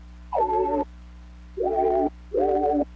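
Lo-fi synth pad built from a walkie-talkie beep sample, playing three sustained, hollow tones of about half a second each, separated by short gaps, over a steady low hum.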